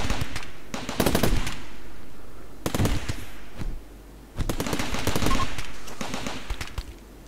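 Raiders firing guns in RimWorld with a modded weapon pack, loud rapid bursts of automatic gunfire in several volleys separated by brief pauses, with no talking.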